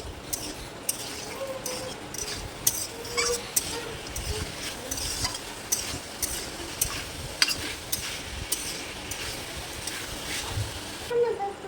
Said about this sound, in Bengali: একবার সব কিছুকে ভালো করে মিশিয়ে নেব